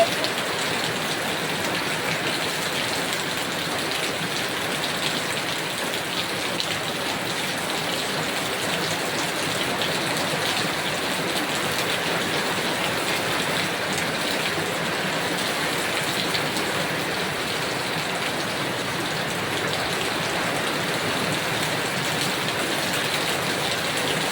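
Heavy rain pours steadily and densely, a constant hissing wash of drops with no breaks and no voices.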